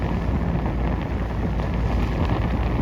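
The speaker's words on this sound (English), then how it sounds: "Still more wind on this side." Strong wind at a sailing regatta roars steadily across the microphone, a dense, loud rush with no pauses.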